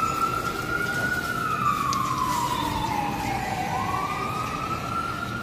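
A fire truck siren wails through a downtown San Francisco street, one long rising and falling sweep that carries on steadily over constant traffic rumble, fairly close and loud.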